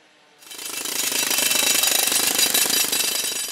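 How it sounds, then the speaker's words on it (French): Drilling holes through the stone walls of a grotto under renovation at Lourdes, a loud continuous hammering drill roar starting after a brief quiet moment and holding steady and close, with no speech. "Des alpinistes du bâtiment s'attaquent au perçage de trous pour faire passer les nouvelles gaines en tout genre."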